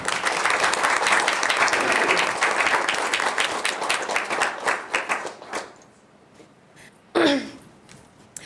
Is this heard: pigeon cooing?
no